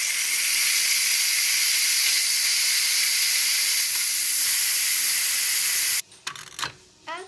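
A 14-quart GoWise pressure cooker vents steam on quick release after cooking lasagna, a loud continuous hiss that holds for about six seconds and then cuts off, followed by a few short bumps and rattles.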